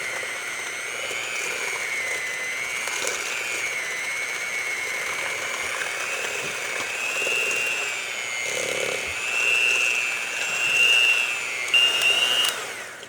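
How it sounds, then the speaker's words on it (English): An electric hand mixer beats softened cream cheese with half a cup of sugar for a cheesecake, a steady high whirring drone that holds throughout with slight rises in pitch and no talk. "So we're gonna beat this together until smooth and fluffy."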